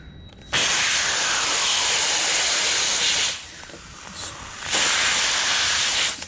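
A handheld steamer hisses loudly and steadily while protective film is peeled from an Alfa Romeo 164 Cloverleaf under restoration, with two long bursts broken by a quieter gap in the middle.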